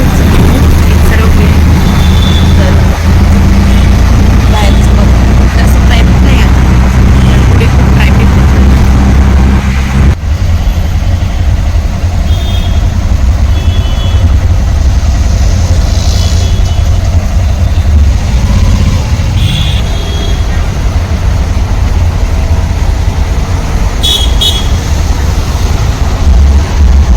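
Riding inside a moving auto rickshaw: a loud, steady engine drone and road rumble fill the whole ride without letting up.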